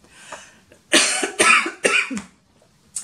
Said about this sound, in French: j'ai essayé de me retenir de tousser depuis tout à l'heure, mais je pouvais plus